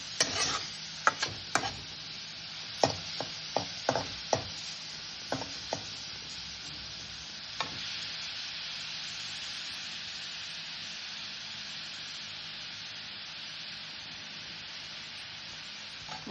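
Curry leaves and amla dry-roasting in a pan without oil, giving a steady soft hiss with a run of sharp stirring scrapes and clicks early on before settling into a continuous faint sizzle.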